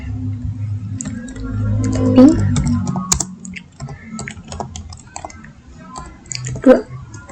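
Typing on a computer keyboard to enter a ping command at a command prompt while configuring a network switch lab, with soft clustered key taps running under faint talk.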